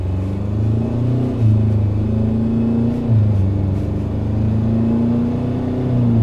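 A Ford Ranger Raptor pickup launches at full throttle from 0 to 100 km/h, the engine droning loudly and steadily with rising pitch and brief dips at gear changes, close and continuous throughout.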